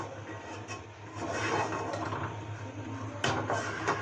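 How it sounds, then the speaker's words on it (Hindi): Water poured into a pan of roasted porridge grains and almonds, a steady rushing sizzle and splash that swells and continues, with a brief sharp jump near the end. "इसको 5 मिनट भूनने के बाद इसमें हम पानी शामिल कर लेते हैं"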